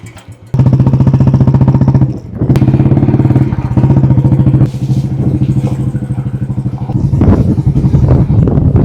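A motorcycle rides along a coastal village road with a loud, close, steady engine drone and rumble, its pitch wavering slightly, with clattering bumps partway through.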